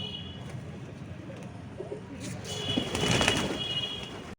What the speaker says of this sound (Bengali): দেখো কত পায়রা বেড়ে গেছে আগের থেকে